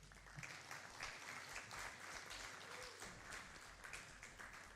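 An audience at a film festival applauds, a dense continuous burst of clapping at moderate distance that holds steady throughout.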